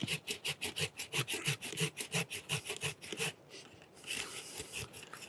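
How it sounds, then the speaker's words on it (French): A hand saw rasps back and forth through an apple tree branch in quick, regular strokes, close by, cutting from underneath, then slows into rougher, uneven scraping. "Donc pour éviter cela, on scie par le bas"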